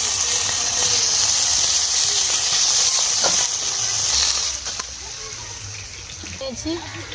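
Fish frying one at a time in hot oil in a wok, giving a loud, steady sizzling hiss that fades somewhat toward the end, with a few utensil knocks and a voice speaking over it.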